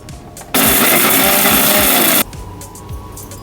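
A kitchen mixer grinder powders black pepper, dried red chillies, cumin and coriander seeds in one loud, steady burst of whirring and rattling lasting under two seconds, quieter room noise before and after.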